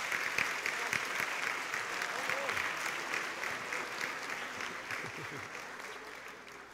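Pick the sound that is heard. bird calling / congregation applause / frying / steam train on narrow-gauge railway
congregation applause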